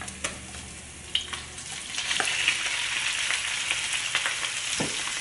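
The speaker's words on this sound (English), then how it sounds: "We're gonna cook the shrimp for a little bit until the shrimp is change color." Shrimp and garlic stir-fry in a hot pan for a yellow curry dish, a steady close sizzle with a few sharp utensil clicks early on, the frying swelling louder and denser after the first couple of seconds.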